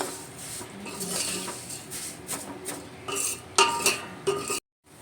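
Thin vermicelli roasts in a pan over a low flame, stirred with a metal spoon that scrapes and clinks against the pan in uneven strokes, ending in sharper knocks before cutting off.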